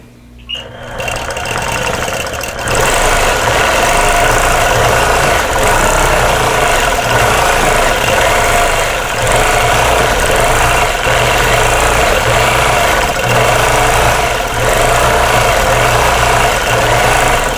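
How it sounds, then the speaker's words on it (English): A sewing machine back-stitches while quilting a Dresden Plate table runner, running loud and continuous with a steady mechanical hum and rapid needle chatter from start to finish. "I'm just going to back stitch along this stem here and then come on out this direction."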